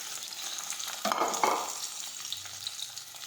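Chopped okra dropped into hot oil with crushed garlic, mustard seeds and cumin, a steady sizzle that swells as the vegetables go in, then settles into continuous frying and stirring without talk.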